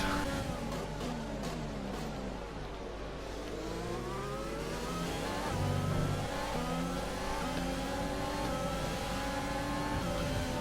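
F1 racing cars accelerate hard in an F1 video game, their engines whining and climbing through the gears in overlapping tones. The loud engine roar runs continuously without a break.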